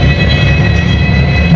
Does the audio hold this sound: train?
yes